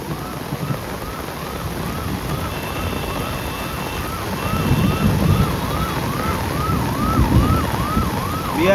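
A fire brigade siren wails in a repeating rising-and-falling cycle through a flooded street during heavy rain, steady and moderately loud over a rushing wash of water and rain, with no talk.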